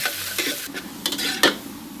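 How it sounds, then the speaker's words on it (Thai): Crackling sizzle of garlic frying in hot oil, with a few scraping stirs and a sharp clink of a utensil against the pan. "ใส่น้ำมันลงไปน้ำมันร้อน เราก็นำกระเทียมลงไปเจียวให้เหลือง"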